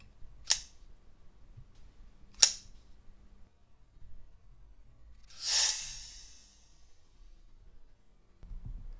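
A Spyderco folding knife is flicked open with a finger: two sharp, crisp clicks about two seconds apart, then a softer swishing snap, all close and isolated in a quiet room.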